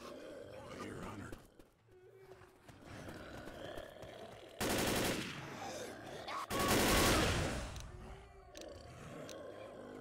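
Gunfire from the Left 4 Dead game comes in two loud, dense bursts of rapid shots with game-world noise and growls between them. Characters talk over the action.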